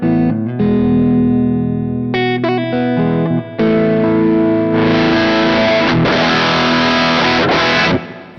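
Electric guitar through a JHS Sweet Tea V2 overdrive pedal with thick high-gain distortion, sustained chords and single notes ringing out loud and close, with a brief gap before heavier, grittier strumming.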